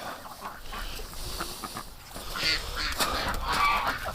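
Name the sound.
ducks and geese honking near flooded barn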